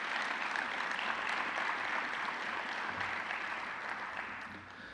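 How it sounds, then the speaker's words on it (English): Audience applause for Lindsey Wilson at a Rogers Scholars graduation ceremony, a steady, even wash of many hands clapping that fades slightly toward the end, with no talking. "give Lindsey Wilson a huge round of applause"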